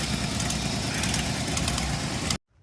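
A six-cylinder engine idling rough on only four cylinders, a loud close, uneven shaking rumble with a lumpy misfiring pulse that cuts off abruptly near the end.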